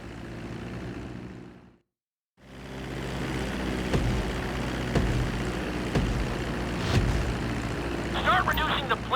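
Propeller airplane in Grand Theft Auto V flying on approach toward a runway, a steady engine drone running throughout with a brief complete dropout near the start, under a voice giving instructions.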